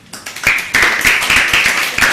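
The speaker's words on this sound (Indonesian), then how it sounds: "Tepuk tangan dong." A classroom applauds a student group's presentation, brisk clapping building quickly to a close, loud rhythmic patter with distinct individual claps.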